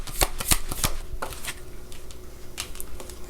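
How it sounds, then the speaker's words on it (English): Tarot cards being shuffled up close: a brisk run of crisp riffling snaps and flicks, several sharp clustered slaps early on, then softer sliding shuffles, steady and alone with no talk. "Let's go ahead and grab one more card from here, and then we'll grab some dialogue cards"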